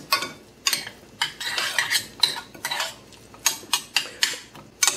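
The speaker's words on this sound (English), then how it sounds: "I'm just going to stir it in." A utensil stirs cilantro into the sauce for a Chesapeake blue crab omelette, making a quick run of scraping and clinking strokes against the pan in an uneven rhythm, close and clear with no talk.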